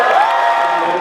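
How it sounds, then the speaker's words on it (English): A Comic Con panel audience in New York cheering and whooping for a comics creative team, a loud, dense wash of crowd voices that rises briefly and holds for a moment. "So please give another big round of applause to the creative team behind Batman Incorporated"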